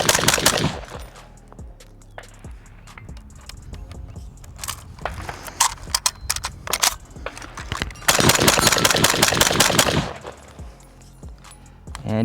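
A Norinco Paratrooper SKS rifle empties 20 rounds in quick succession, loud sharp reports clustered in rapid bursts, the last stretch a dense run of shots.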